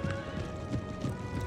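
Cavalry horses riding in the video game Empire Total War, with steady clip-clopping hooves and occasional whinnies at a moderate distance, faint and continuous.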